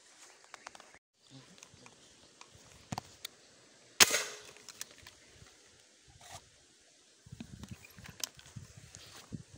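A single sharp, loud gunshot cracks outdoors, then decays quickly into a quiet background with scattered faint taps and rustles.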